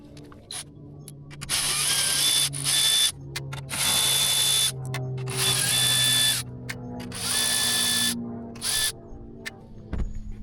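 A power drill or driver works out the grille fasteners on a 2016 Chevy Silverado 2500 HD: several loud, close whirring bursts of a few seconds each, separated by short pauses, with no talking.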